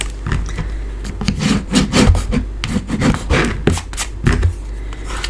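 A paper card flap on a curved card and gift box is pulled down and pressed flat by hand, giving a run of close rubbing and scraping strokes in an uneven rhythm.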